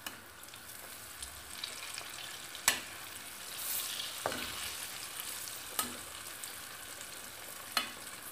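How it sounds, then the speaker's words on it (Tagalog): Broccoli deep-fries in oil, giving a soft, continuous sizzle with occasional sharp pops and clatters spaced a few seconds apart, fairly faint and close, with no voices. "Ganyan lang ang pagprito ng broccoli."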